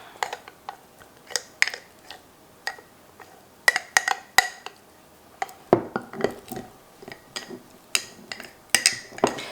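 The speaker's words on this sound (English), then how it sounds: "I am just gonna mix everything together. I'm gonna get it really incorporated in here. I like to take my spoon and like take it along the side" A spoon clinks and scrapes against the side of a bowl while mixing sourdough dough for a sandwich loaf, with irregular, close, moderately loud taps throughout.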